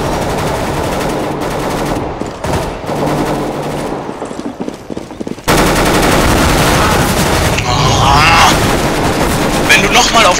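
Loud, rapid automatic gunfire and shots from the video game CS:GO come in dense, overlapping bursts, pausing briefly before resuming in heavy volleys, with a voice talking over the action.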